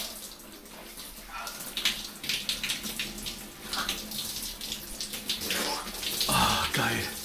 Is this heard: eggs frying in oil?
no